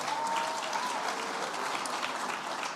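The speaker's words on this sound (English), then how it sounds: "Let's give a special round of applause, Tara." An audience at an awards concert night applauds, steady broadband clapping filling the whole moment at moderate distance, with a faint tonal whine running beneath it.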